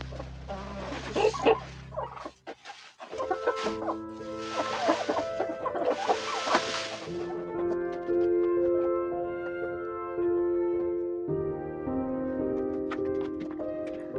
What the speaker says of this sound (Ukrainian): Індюки, як завжди, підспівують, та півень теж.